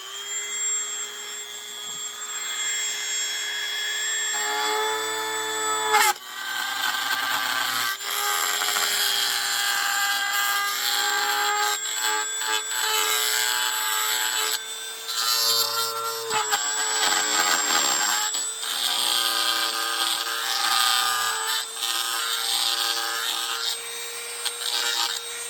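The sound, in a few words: Dremel 200 rotary tool with carving bit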